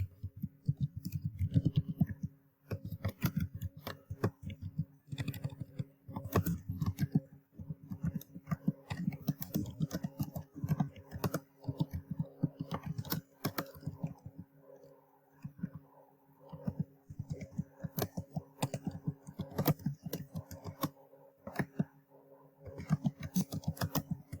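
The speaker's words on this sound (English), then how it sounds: "and begin typing my response." Quick, irregular clicking of computer keyboard keys at close range, steady bursts with brief pauses, no voices.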